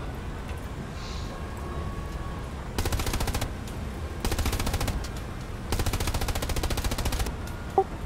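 Machine-gun fire in the World War II shooter game Hell Let Loose, three sustained rapid bursts at moderate distance over a low rumbling background, ending with a single sharp crack.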